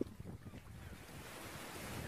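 Steady wind blows across the water at a harbour shore served by a ferry, with a continuous rushing roar and buffeting against the microphone, mixed with faint wave wash and no speech.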